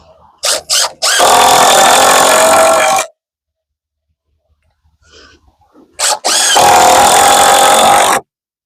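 A power drill drives screws into a wall header while framing a small off-grid tiny house, with two loud bursts of whirring, each led by short trigger blips and separated by a quiet gap.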